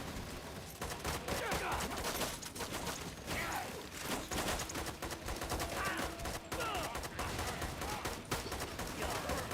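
Dense, rapid gunfire crackles almost continuously in Lost Planet 2, with overlapping bursts that stay loud across the whole stretch.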